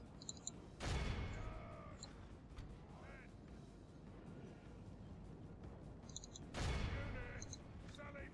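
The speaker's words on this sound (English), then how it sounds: "Who's that trying to shoot us?" Distant volleys of gunfire and battle clamour burst twice in a Westeros Total War castle siege, each a sudden loud swell over a steady din of combat, with faint voices in the mix.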